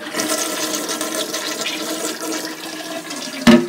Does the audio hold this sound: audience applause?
no